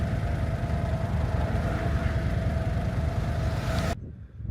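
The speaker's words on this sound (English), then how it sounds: "the only thing we have got is it vibrates a lot on idle" A Renault camper van engine idles with a steady, rough rumble and heavy rattling vibration, then cuts off abruptly near the end.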